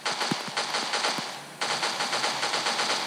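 Rapid automatic gunfire from a zombie-mode shooter in the mobile game Phục Kích Mobile, two sustained bursts of close, loud repeating shots with a short pause between them, no talking.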